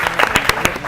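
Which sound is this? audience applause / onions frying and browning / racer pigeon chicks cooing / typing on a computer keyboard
audience applause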